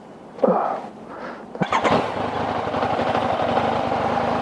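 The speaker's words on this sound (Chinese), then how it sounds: "最近的這個引擎有點不太順，啟動以後它沒有很穩定" A motorcycle engine starts and idles unevenly, its low rumble wavering and sputtering steadily after a few brief knocks.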